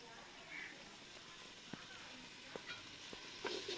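Chopped onion fries in a cooking pot for a home-cooked okra and meat curry, giving a soft, steady broadband sizzle with a few faint clinks and stirring taps, heard fairly quietly.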